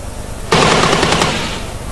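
An M1A2 Abrams tank's coaxial machine gun opens up suddenly in a loud, rapid continuous burst, the rounds blurring into a dense roar that holds for about a second and a half.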